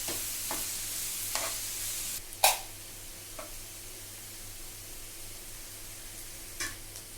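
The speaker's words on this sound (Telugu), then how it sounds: "ఆనియన్స్ బాగా వేగిపోవాలండి. బ్రౌన్ కలర్ వచ్చే వరకు వేగాలి ఆనియన్స్." Onions frying in a pan for a boondi curry, a faint steady sizzle broken by a few sharp scrapes and knocks as they are stirred, with no talk.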